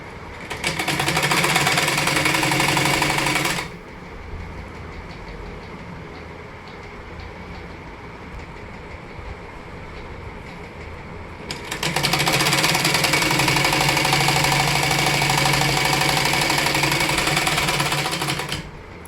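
An electric sewing machine stitches a salwar waistband in two loud, rapid, rattling bursts of about three and seven seconds, separated by a quieter pause while the fabric is adjusted.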